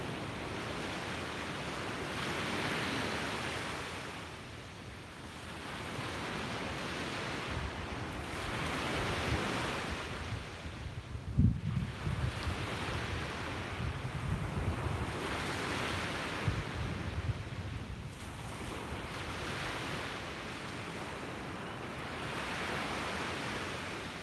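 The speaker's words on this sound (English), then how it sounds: "enjoy this amazing soundtrack of nature soundtrack of the waves crashing" Ocean waves crash on a beach in slow repeating surges, each swell rising to a broad roar and then fading, with steady wind buffeting the microphone and no talking.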